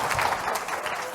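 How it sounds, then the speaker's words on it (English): A conference audience claps for two panelists after a talk on hate crimes in Canada, a dense, steady patter of many hands close to the microphone, filling the whole short moment without a voice over it. "Give them a round of applause"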